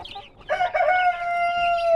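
A porcelain-colored rooster crows once, loud and near, its long call following a brief cluck.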